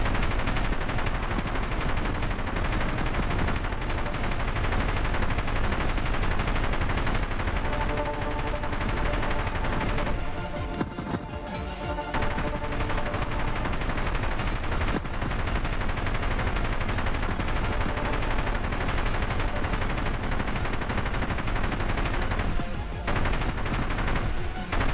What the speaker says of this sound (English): All right, let's do flamethrower.